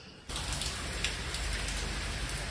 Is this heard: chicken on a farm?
no